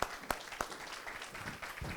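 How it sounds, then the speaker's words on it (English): Scattered applause from an audience greeting a speaker, soft and thin, with a few distinct sharp claps near the start over a faint, low patter. "Round of applause for Penelope"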